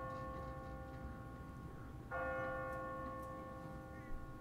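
A church bell on an automatic timer in The Walking Dead video game rings out partway through, its sustained metallic tone ringing on faintly above a quiet background hiss.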